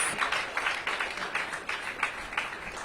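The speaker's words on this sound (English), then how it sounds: "Let's give them another big round of applause" An audience at a school-year opening event with Mayor Bowser gives a round of applause, a steady rhythmic patter of many hands clapping at moderate distance and volume, with no talking over it.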